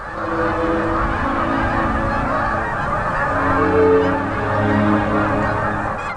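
A flock of Canada geese honking in a snowstorm at sub-zero temperatures, many overlapping calls rising and falling over a constant roar of wind, loud and close.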